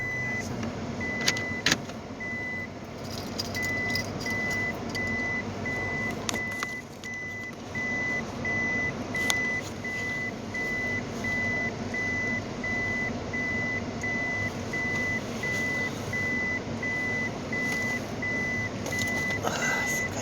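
A truck's reversing alarm beeps in a steady, even rhythm at moderate distance, over a constant rumble of traffic and wind with no talking.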